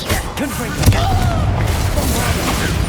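A Confringo fire spell explodes in Hogwarts Legacy with a booming burst that lands near the start and rolls under dense game music and effects, followed by a sustained rumbling tail.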